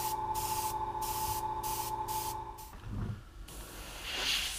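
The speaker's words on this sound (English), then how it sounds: "mist it with black. Con negro. Muy poquito, just very subtle." Short bursts of an airbrush or spray can misting black paint onto a 1/3 scale 3D-printed Venom bust, several quick hisses in a row over a steady hum, then a softer pause.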